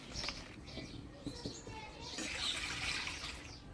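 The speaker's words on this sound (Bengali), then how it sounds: "সবার প্রথমে একটু গরম জল করে নিব এই মাছটা ধোয়ার জন্য" Hot water is poured over dried fish to wash it, producing a faint, soft splashing gush that swells in the second half of the sound.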